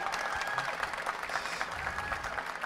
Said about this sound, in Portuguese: Eu quero um grande aplauso para esse homem aqui, é o Fernando Belchior